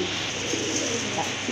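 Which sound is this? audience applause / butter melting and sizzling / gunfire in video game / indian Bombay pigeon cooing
indian Bombay pigeon cooing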